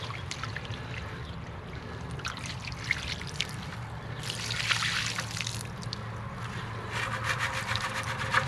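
Water runs and trickles steadily out of a water heater tank being flushed, a continuous splashing flow with louder gushing surges partway through and near the end, no talking.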